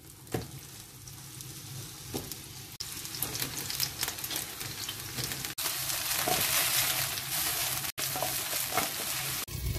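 Onion and bell pepper frying in a small amount of oil for maqlouba, a continuous close sizzle that swells louder after a few seconds, broken by brief stirring scrapes and pauses.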